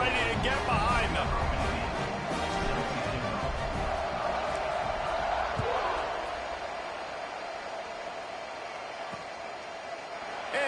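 A large football stadium crowd roars loudly and steadily at kickoff in an Arizona State versus Mississippi State playoff game, and the noise eases slightly toward the end while a commentator talks over it.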